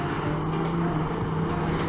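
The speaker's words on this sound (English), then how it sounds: "I think that person's exhaust just gave up." Passing vehicle with a failed, broken exhaust, a loud rough low-pitched droning rumble heard close by throughout the short moment, with no voices.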